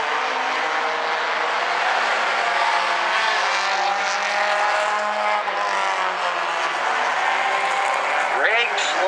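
Bumblebee-class race cars at South Sound Speedway make a continuous loud, droning roar of engines lapping the oval, with a commentator's voice running over it.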